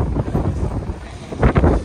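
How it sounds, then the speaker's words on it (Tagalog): Strong winter wind buffets the microphone in a steady low roar in Taiwan, with a louder gust near the end. "Lakas ng hangin."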